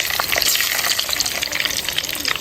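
Fenugreek seeds frying in oil in a pan for a Kerala-style fish curry give a steady, close hiss and crackle that holds evenly throughout, with no voices.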